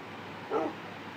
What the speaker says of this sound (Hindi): कोई भौंक रहा है क्या, डॉग भी है यहाँ पर।